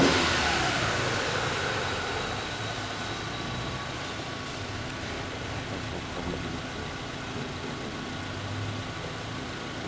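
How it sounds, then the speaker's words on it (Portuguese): A car engine revved under load during an oscilloscope ignition test, a steady loud mid-pitched drone that eases slightly after the first couple of seconds and holds level, with no talking. "A gente vai acelerar lá um pouquinho o motor para aumentar esse tempo."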